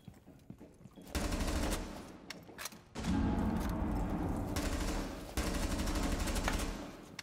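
Automatic weapon fire in Rainbow Six Siege ranked play, long loud bursts of rapid shots in three sustained volleys separated by brief pauses.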